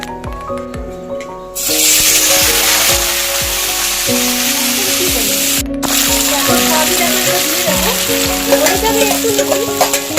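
Food lowered into moderately hot oil sets off a sudden loud, steady crackling sizzle after a quieter start, with a brief break and then continuous frying close by.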